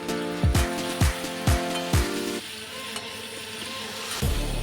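Hot oil sizzles steadily as shrimp with salt and turmeric fry, while a series of sharp knocks and thumps of a utensil against the pan punctuate the frying, close up.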